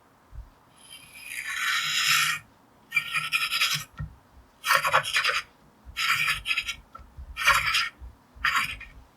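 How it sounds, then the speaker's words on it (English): Hand reamer enlarging a hole in a Cane Creek bicycle shock, progressing from a smaller size, heard as loud rasping scrapes in six distinct strokes separated by brief pauses, the first stroke long and the later ones shorter. "smaller reamer"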